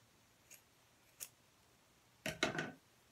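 Scissors cutting thread while mending a sock: two faint quick snips, then a closer, louder double snip in a quiet room.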